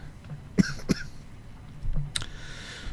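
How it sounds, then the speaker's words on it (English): Two short, sharp coughs close to the microphone, followed by a brief throat sound, then quiet. "Excuse me, cough."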